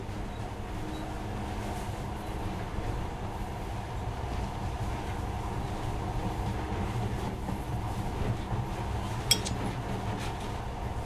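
A steady low rumble and hum of a monorail in motion in the video game Metro 2033 Redux, continuous throughout, with a faint clink near the end.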